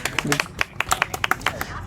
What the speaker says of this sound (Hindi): ताली हो जाए ज्ञानमणि के लिए।